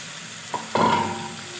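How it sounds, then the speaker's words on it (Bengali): Marinated chicken dropped into a hot pan with tomato: a short tap, then a loud sizzle that bursts up and settles into a steady fry. "চিকেনটা কিছুক্ষণ কষিয়ে নেব"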